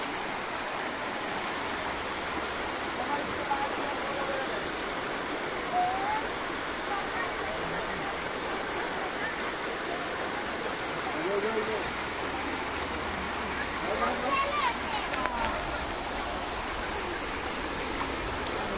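Floodwater of the Ghumuria river rushes and swirls in a broad, steady hiss, a constant stream-like wash heard from nearby at moderate level, with faint voices now and then beneath it.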